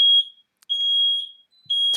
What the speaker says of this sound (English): What the hell's going on with the fire alarm?